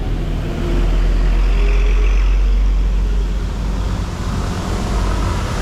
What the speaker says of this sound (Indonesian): Ramai sekali jalanan.